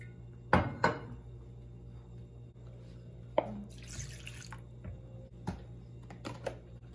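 Buttermilk whey poured into a measuring cup in a home kitchen while making whole-wheat oat pancakes: a short liquid trickle with a few small clinks and knocks, close and fairly quiet, no talking.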